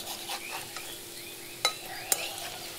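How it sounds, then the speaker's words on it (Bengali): Fish roe fries in a wok in a village kitchen, giving a soft, steady sizzle with two sharp metallic clicks partway through. "ডিম ভাজাটা একদম সহজ, কড়াইতে লেগেও যায় না"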